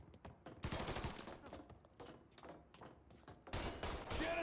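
Rapid bursts of gunfire in Mafia 3, sharp repeated shots and machine-gun volleys cracking close by, with a voice speaking briefly between the firing.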